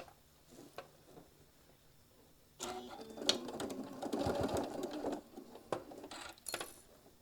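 A sewing machine runs a quarter-inch seam across fabric, starting after a quiet pause and then buzzing in a steady stitching burst for a few seconds, with a few light clicks and handling taps around it.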